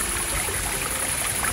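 Falling water rushes in a steady, broadband hiss that stays constant from start to finish, with no voices.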